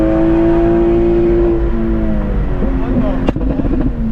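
A BMW M340 engine holds a steady, close, humming idle-like tone, then climbs briefly in a quick rev before settling again, loud and alone.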